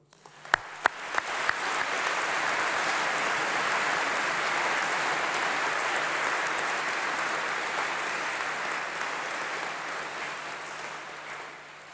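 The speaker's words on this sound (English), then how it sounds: "Let's give them all a big round of applause." Sustained audience applause fills a great hall at a summer congregation ceremony, starting with a few scattered claps and swelling at once into dense, even clapping that holds steady and eases off slightly at the end.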